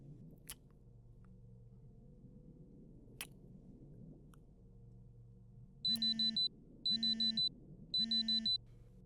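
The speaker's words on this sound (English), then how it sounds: "It sounds like you're being paged." Three quick bursts of high electronic pager-alarm beeping in a video game ring out in a steady rhythm over a quiet low hum, with a couple of faint clicks before.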